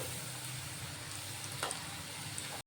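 Besan gatte deep-frying in very hot oil give off a steady, soft sizzle that holds evenly throughout with no voices, then cuts off abruptly at the end.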